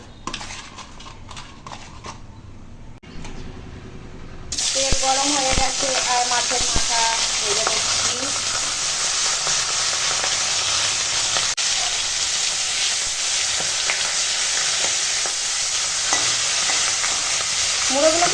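Hilsa fish heads with gills and oil pieces, salted and coloured with turmeric, frying in a pan: after a quieter start a loud, steady sizzle kicks in and holds, with occasional utensil clinks and scraping stirs.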